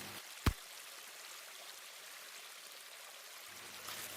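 A waterfall in a game level editor gives a faint, steady rushing hiss with one sharp click near the start and no speech.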